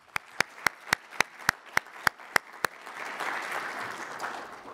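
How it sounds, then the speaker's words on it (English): An audience at a closing-remarks event applauds: about nine crisp, evenly spaced claps ring out near and close, then swell into a broad, steady wash of crowd clapping that carries on to the end. "Please, round of applause."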